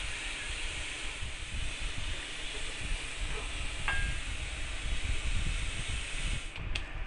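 Steam hissing out through the neck heel of a Guild JF30 acoustic guitar as the neck is being removed, a steady faint breathy hiss with a couple of brief squeaky high tones near the end.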